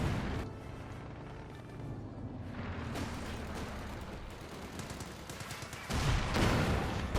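Dense, continuous gunfire from double guns in a Company of Heroes 2 1v1 match, a steady crackling barrage that runs throughout and swells louder near the end.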